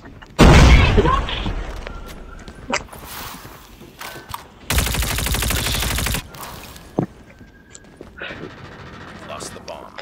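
Rapid bursts of Call of Duty Mobile gunfire with loud booms and a sustained automatic volley, while someone talks over the action.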